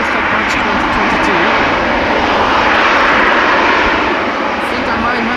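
A KLM airliner roars on departure from Amsterdam Schiphol Airport in windy weather, a loud, steady, broadband engine rumble filling the whole stretch.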